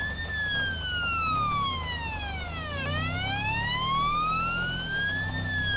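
Fire truck siren in GTA5 wailing loud and close, a steady electronic sweep that falls and then rises again in a long cycle over a low engine rumble, with no voices.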